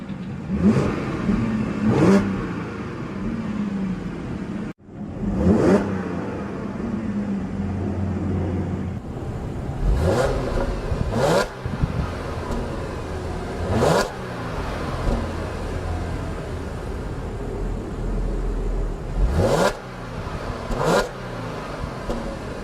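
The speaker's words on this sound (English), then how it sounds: "Very freely revving engine." A 2012 Audi A7 engine is revved repeatedly, each blip a quick rising whine that drops back to idle, roughly every couple of seconds, loud and nearby.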